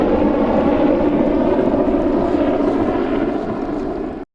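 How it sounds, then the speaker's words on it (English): A low-flying aircraft passing overhead, its steady engine drone loud and continuous throughout before cutting off abruptly at the end. "And a plane is coming across."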